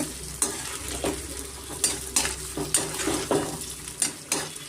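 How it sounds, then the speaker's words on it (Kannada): Potatoes coated with turmeric fry in oil in a pan, a continuous sizzle with regular scraping strokes from a spoon stirring them, close and fairly loud. "ಸ್ವಲ್ಪ ನಾನು ಅರಿಶಿನ ಇಷ್ಟನ್ನು ಹಾಕಿ ನಾನು ಸ್ವಲ್ಪ ಎಣ್ಣೆಯಲ್ಲಿ ಫ್ರೈ ಮಾಡ್ಕೋಬೇಕಾಗುತ್ತೆ ಸ್ವಲ್ಪ ಡೀಪ್ ಫ್ರೈ"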